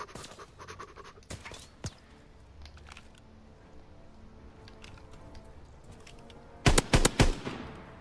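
Bursts of rapid gunfire in the World War II shooter Call of Duty: WW2 during a 1v1 match, with sparse shots early, then a loud cluster of three or four quick bursts near the end.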